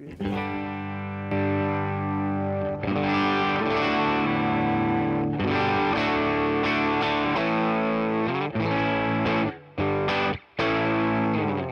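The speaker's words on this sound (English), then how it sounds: "It's nothing over the top. It's real light overdrive." An electric guitar plays sustained chords through an M Pedals light overdrive pedal, a light, crunchy tone ringing out steadily with a few brief cutoffs near the end.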